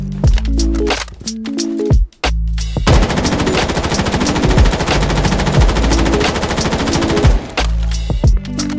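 Rapid automatic gunfire from weapons in the shooter game Project Bloodstrike, loud and close, with short bursts and single shots at first, then a sustained stream of fire before more bursts.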